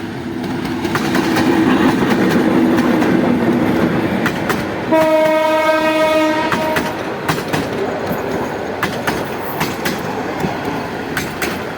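A Narayanganj–Kamalapur local train in Bangladesh rumbles past close by with a steady clatter of wheels, and a loud horn blares in the middle of its pass.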